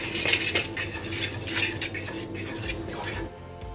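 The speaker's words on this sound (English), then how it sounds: "We will mix all this dry ingredients." Dry ingredients and brown raw sugar for hot cross buns are stirred in a bowl, a rapid rhythmic clatter of a spoon scraping and tapping against the sides before stopping abruptly.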